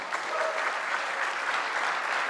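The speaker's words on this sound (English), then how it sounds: "Everybody give Julie a big round of applause." A conference crowd in Berlin applauds steadily, a dense wash of clapping that holds at an even level throughout.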